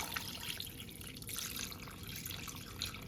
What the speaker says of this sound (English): Now we are going to pour our mixture.